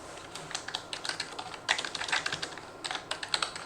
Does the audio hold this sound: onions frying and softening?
no